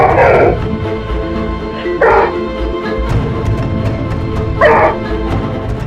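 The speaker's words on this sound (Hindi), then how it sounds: "वो कुछ नहीं करेगा, बस ऐसे ही गुर्राता रहता है।" A dog growls low and continuously, broken by three loud, close barks spaced a couple of seconds apart in an indoor scene from a courtroom drama show.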